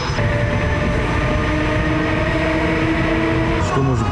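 Steady rumble of a train carriage in motion, with a broad continuous roar and faint tonal whine, heard from inside the moving train.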